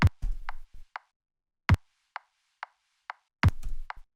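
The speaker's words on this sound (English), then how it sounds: "the first thing up here is the kick and the bass," A layered kick drum with bass in an electronic music track: a few heavy booming hits spaced apart, with short sharp percussive ticks between them, dry and alone.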